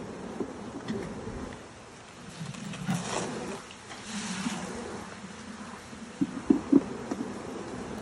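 Honeybees hum and buzz softly and continuously as they are shaken back into a hive box during a colony split, with a few brief knocks and scrapes near the end and no talking.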